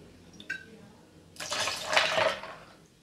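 Vodka pours into a metal measuring jigger in a short liquid splash lasting about a second, following a faint clink. It is fairly close and quiet, with no speech over it.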